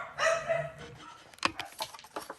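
Several small dogs yelp and bark in short, sharp bursts indoors, close by and fairly loud, with clustered yips toward the end.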